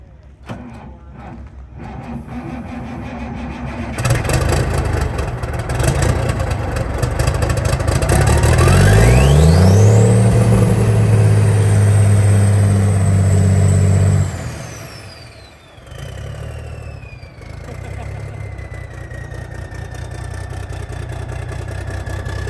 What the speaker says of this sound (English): Man, that motor sounds pretty good.